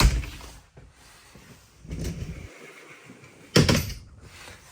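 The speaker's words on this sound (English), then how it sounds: "Got your pocket door. Close this area off." A pocket door in the bathroom of a 2024 Renegade Veracruz 30VRM RV on a Ford F550 chassis slides shut, with soft rolling rumbles and a sharper knock near the end, close up with no talk.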